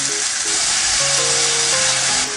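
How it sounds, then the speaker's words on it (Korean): Meat stir-frying in scallion oil with salt and pepper, a loud, steady sizzle that stays up close and continuous, with faint tonal scrapes underneath and no voices. "기름량이 올라오면 고기와 소금, 후추를 넣고 한번 볶아주세요"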